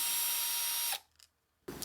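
Power drilling on a vintage 1960s Fender Stratocaster, a close steady whir that cuts off abruptly, followed by a short pause with a faint click and then a fresh burst of the drill starting up.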